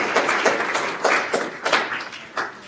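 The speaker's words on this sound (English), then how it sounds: "Let's give her a round of applause." A town hall audience of AP students gives a round of applause, heard as a scattered, uneven run of individual claps rather than a dense roar, fairly close.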